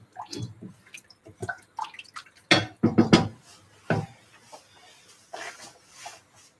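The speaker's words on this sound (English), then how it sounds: "so now we stir it all around." Thai massaman chicken curry stirred in a pot, with a spoon clanking and scraping against the sides in a few loud knocks and softer wet stirring sounds, close by with no talking.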